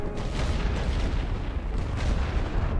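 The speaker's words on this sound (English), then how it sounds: "I'm just going to use artillery, get rid of these guys without having to risk my own troops for it" Artillery fire from The Great War: Western Front strategy game, a continuous rolling rumble of heavy booms and distant explosions at steady loudness, with no speech.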